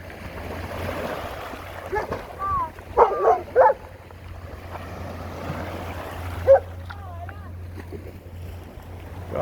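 A dog on a beach gives a few sharp barks and high yips in short bursts, with waves and a low engine-like drone underneath while a person talks nearby.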